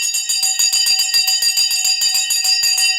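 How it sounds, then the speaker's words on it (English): A bell marking the stock market close rings loud and near in a rapid, steady metallic trill that continues unbroken, with no talk over it. "The bell has gone."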